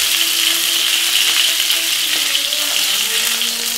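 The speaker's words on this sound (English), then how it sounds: "some nice unseasoned pan fried chicken, served with some veg" Unseasoned chicken pieces sizzle steadily in a hot frying pan, a continuous bright crackling hiss close up, with a faint tonal hum running underneath and no talking.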